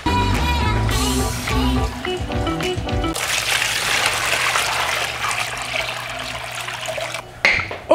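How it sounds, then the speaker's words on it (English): Water pours from a tap into plastic tubs being filled for betta fish, a steady rushing trickle that shifts in tone partway through, then cuts off abruptly near the end. "we're filling up a 5-gallon tub to spread the water throughout all of these"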